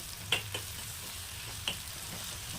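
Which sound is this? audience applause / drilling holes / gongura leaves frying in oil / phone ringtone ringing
gongura leaves frying in oil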